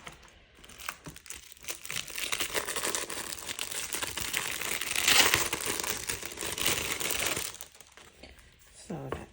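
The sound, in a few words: A7 cash envelopes being handled and crinkled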